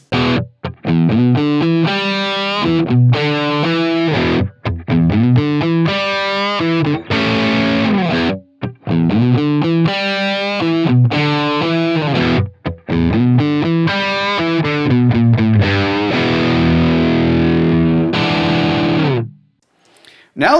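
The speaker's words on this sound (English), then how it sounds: "Let's go back and forth between the Helix stock cabs and the Helix with the impulse response." Distorted electric guitar played through a Line 6 Helix using its stock cabinet models and then an impulse response, with thick chugging chords and sustained notes that run continuously and loudly with only brief gaps.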